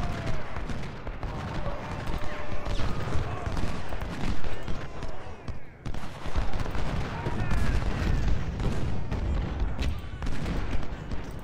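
Artillery and massed musket fire in the Ultimate General Civil War game's Wilderness battle, a dense continuous crackle of rifle volleys with booming cannon shots layered through, loud and busy for the whole stretch.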